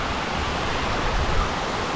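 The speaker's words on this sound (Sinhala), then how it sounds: "මේ ඇලි ටික පඩිපෙලක් වගේ වැටෙන හින්දා තමයි මේ මෙතෙන්ට පඩිපෙල් ඇල්ල කියලා කියන්නේ." Pahipel Ella, a stepped waterfall in the Dumbara valley, roars as a steady, dense rush of falling water, close and loud with no other sounds.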